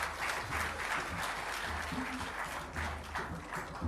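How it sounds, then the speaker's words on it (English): An indoor audience applauds at a meeting where the president receives a national football team after World Cup qualification. The applause is steady, continuous and moderately distant, with no break. "He deserves another round of applause."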